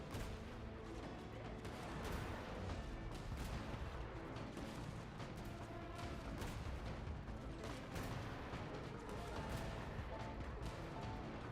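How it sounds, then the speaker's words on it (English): A war machine cannon in Genshin Impact fires repeatedly under a dense, continuous wash of game noise. Heavy thuds and crashing impacts stay muffled and blend into one steady din. "Bosco 2, prepare to fire"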